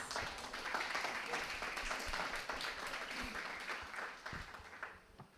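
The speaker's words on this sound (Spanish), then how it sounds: "Pido un fuerte aplauso para don Alfonso Chase." A round-table audience in San Ramón applauds writer Alfonso Chase: a thick, continuous patter of many hands, fairly soft and distant, tapering slightly toward the end.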